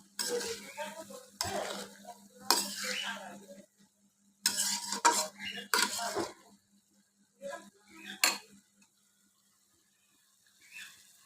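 Vegetable stalks cook in a pan and are stirred in several separate bursts of scraping and light sizzling, separated by near-silent pauses, with a steady low hum running through the first part.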